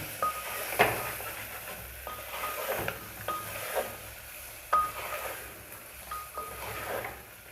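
Cumin and coriander powder fry on low heat in a pan for a taro curry, a soft steady sizzle broken by repeated scraping strokes of a spoon stirring the spices.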